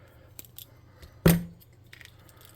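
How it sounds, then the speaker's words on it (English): A single crisp snip of scissors cutting a loose cardstock piece while building a mech model, sharp and close with a brief ring-off, amid quiet room tone. "We'll snip them."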